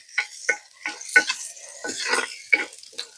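Garlic and curry leaves stirred as they fry in a pot, a village-style squid curry in progress: repeated scraping and clinking strokes of a spoon against the pot over a soft sizzle, close and fairly loud.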